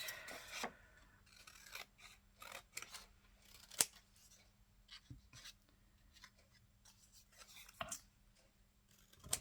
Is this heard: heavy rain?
no